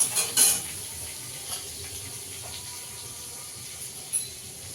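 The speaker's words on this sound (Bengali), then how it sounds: "রসুনটা একটু ভেজে নেবো।" Chopped garlic fries in butter or oil, giving a soft, steady sizzle with a few clinks and scrapes of a utensil stirring in the pan, heard alone without talk.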